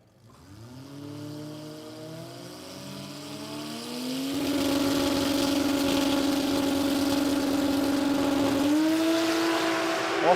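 Modified 10.5 drag cars at the Garrett Adelaide Jamboree rev and launch down the track, engines climbing in pitch before a loud sustained full-throttle roar that shifts up a gear near the end, with no talking.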